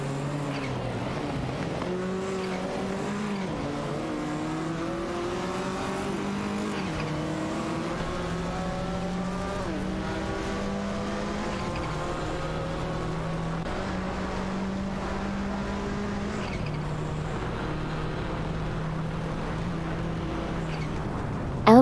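Porsche 911 race cars, including a 911 Carrera RSR 3.8, roar through an AI-driven racing game, their engines layering rising and falling revs and gear shifts in a continuous, fairly close drone with no voices.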